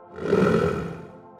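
Grey wolf growling: a low, rough, rumbling growl that swells and then fades, close and fairly quiet, with no other sounds.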